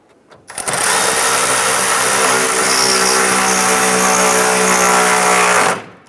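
A power tool drives screws into the grille insert bracket on a 2002–2008 Dodge RAM, a loud continuous whirring motor run lasting about five seconds with an abrupt start and stop.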